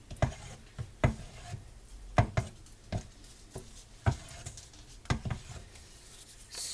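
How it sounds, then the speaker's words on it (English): Spoon stirring homemade garden vegetable pasta sauce in a pot, with irregular scraping and knocking strokes against the pot, close and fairly quiet. "Stir it up really well"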